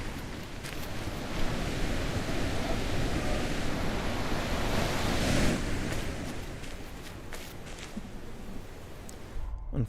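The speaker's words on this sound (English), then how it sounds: "that waterfall is quite loud." A loud waterfall in the video game The Witness roars as a steady, dense rush of noise that fills the whole stretch without pause.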